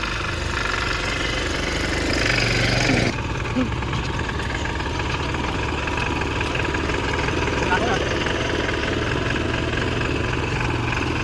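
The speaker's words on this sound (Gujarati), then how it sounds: "હવે ટ્રેક્ટર રાખશે રાજવીર" A tractor engine idles steadily in a farm field, a continuous low rumble with a slightly knocking texture that stays level throughout, while people talk nearby.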